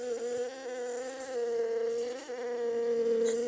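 A gigantic bee buzzes loudly and close, a continuous droning hum that wavers slightly in pitch as it moves about, with no voices over it.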